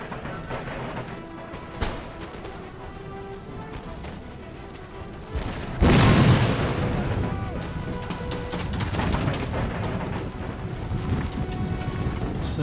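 Artillery fires into the city during a French siege of Athens in Empire: Total War, a single heavy booming blast midway through that rumbles and decays into a noisy battlefield din, preceded by a sharp distant crack.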